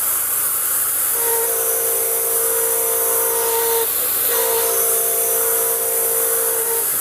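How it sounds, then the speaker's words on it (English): Air compressor running in a workshop beside a surface grinder, a loud continuous hissing roar with a tonal whine that dips briefly midway and then resumes. "There comes the compressor."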